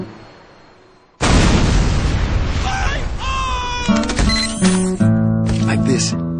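A heavy caliber tripod-mounted gun in Team Fortress 2 fires in a loud sudden blast that sets off a dense roar and ringing metallic clatter, with someone talking over it.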